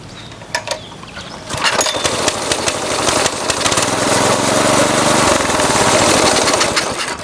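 A go-kart engine being cranked: after a few knocks, a loud, continuous mechanical chugging and rattling runs close by for several seconds without settling into a running idle.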